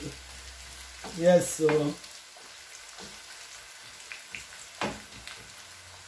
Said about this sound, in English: as the carrot is frying, I will now add my gorgeous, that is zucchini.